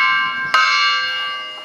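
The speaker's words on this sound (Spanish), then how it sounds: "Y esta es la campana, que no tiene fecha en este caso, solo tiene una cruz." An undated church bell marked with a cross, hanging in a tower of the twin towers of Cadreita, rings with a long sustained hum. A single loud strike renews the ringing, which then slowly fades.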